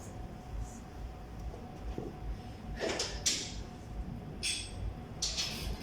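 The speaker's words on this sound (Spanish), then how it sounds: "Voy a cerrar esta puerta." An indoor door being closed, heard as a few short scraping and knocking bursts spread across several seconds over a quiet background hum, with no talking.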